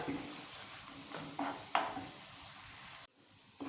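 Egg masala being stir-fried quickly in oil for an egg breakfast dish, a close steady sizzle with a few spatula scrapes that cuts off sharply near the end.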